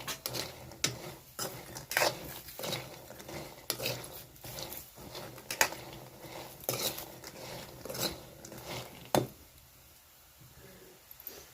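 A spatula scrapes and knocks rhythmically against a pan as sandge lentil dumplings are dry-roasted, the clattering strokes repeating at a steady pace before stopping toward the end.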